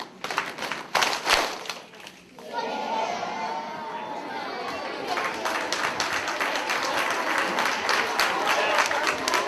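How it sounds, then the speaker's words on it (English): Grade 4 students at a school assembly giving props in unison, a rhythmic pattern of pats, claps and snaps that swells into sustained crowd clapping and chatter, loud and close, with children's voices mixed in. "2 pats, 2 claps, 2 snaps"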